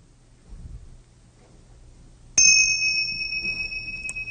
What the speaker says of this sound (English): When I ring the bell, you're going to find the person who's closest to you and get back to back with them.